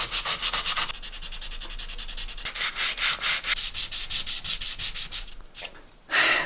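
Steady rhythmic sanding strokes rub over body filler on an RC XJ Cherokee body, loud and close, with a brief pause and then a final stronger stroke.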